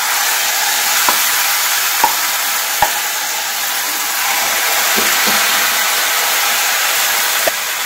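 Banana malpua batter frying in a pan over a low flame, a continuous loud sizzle with a few faint clicks and taps of a utensil scattered through.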